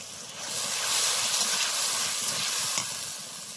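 Onions frying in a pan for a home-cooked hilsa and cauliflower curry, giving a steady, close sizzling hiss that swells and holds for a few seconds, with no voices.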